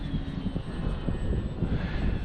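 A V-22 Osprey-style model plane called Bigfoot flies overhead with a steady, droning engine whine, continuous and fairly loud at moderate distance, with no talk over it.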